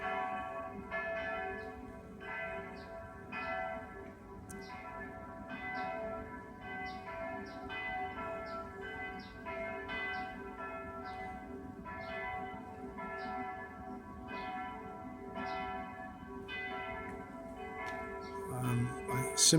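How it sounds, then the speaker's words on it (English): Church bells ring in a steady, repeated pattern from a distance, fairly faint over low background hum. "That noise, Borg, is coming from the church tower"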